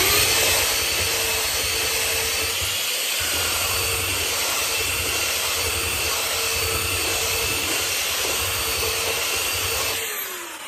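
An electric hand sander works a piece of wood, giving a loud, steady close-up whir with a rough grinding hiss that holds for about ten seconds before tapering off as the tool stops.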